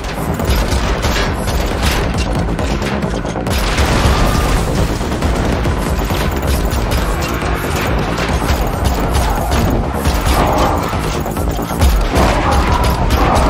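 Dense, continuous gunfire and booming blasts fill a driving sequence in a next-gen video game, loud and relentless with engine rumble beneath.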